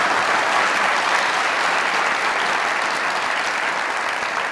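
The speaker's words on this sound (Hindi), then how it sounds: "बेटा जी सवाल के लिए तालियां" Loud, dense audience applause at a live talk-show taping, rewarding a young fan's question, a steady wash of many hands clapping evenly from start to finish with no speech over it.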